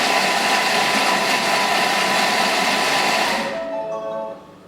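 A Thermomix whirs loudly at speed 5, mixing a prawn wonton filling for several seconds in a steady, close motor drone before spinning down to a stop.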